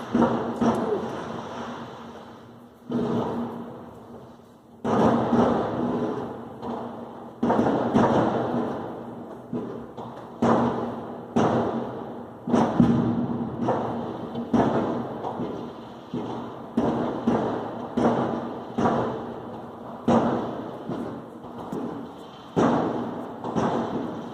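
Rapid series of loud, sharp bangs and crackles in bursts, one blast after another for the whole stretch, close by, from New Year fireworks near Plasky Square in Brussels.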